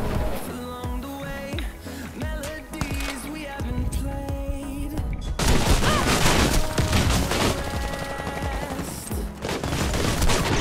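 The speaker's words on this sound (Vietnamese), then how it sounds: "Có tiếng súng" Rapid gunfire bursts from a Fabarm STF-12 shotgun and other weapons in the Warface shooter game, with dense, loud overlapping shots and booms that intensify in the second half amid game music.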